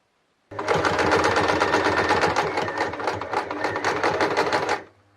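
A sewing machine runs fast and close, stitching triangle patches for a traditional patchwork quilt. One continuous burst of rapid, even needle clatter lasts about four seconds before it stops.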